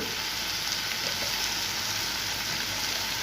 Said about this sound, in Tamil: வெறும் உப்பு மஞ்சள் பொடி சேர்த்து இது நல்லா வதக்கிடலாம்